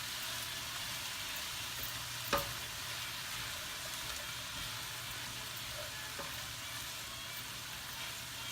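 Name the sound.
pork chop sauce simmering and being stirred in pan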